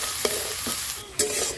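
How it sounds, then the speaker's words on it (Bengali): Crabs seasoned with salt and turmeric fry loudly in a pan, with a steady sizzle and a few sharp scraping stirs. "লবণ হলুদ দিয়ে কাঁকড়াগুলো খুব ভালো করে ভেজে নেব"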